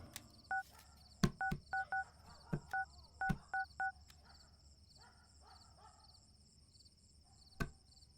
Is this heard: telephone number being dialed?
yes